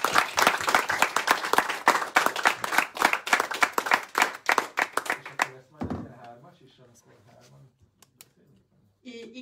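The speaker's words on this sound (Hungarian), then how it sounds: "Hát egy nagy tapsot akarok." A crowd at a talk-style folk-school event breaks into sustained clapping, loud and dense for about five seconds, then thins to scattered claps while people start talking nearby.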